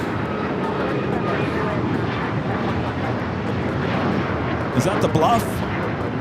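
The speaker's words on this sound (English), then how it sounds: "This is Alaska Airlines 1418 taking off to Guadalajara on the MAX 9." Alaska Airlines Boeing 737 MAX 9 jet taking off at LAX, a steady broadband engine roar filling the scene at a distance, with a voice speaking over it and a brief louder burst near the end.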